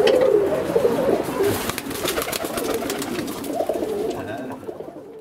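Pigeons coo steadily in a loft or yard where racing pigeons are kept, soft throaty calls repeating and overlapping close by, with faint background rustle and a few bird chirps.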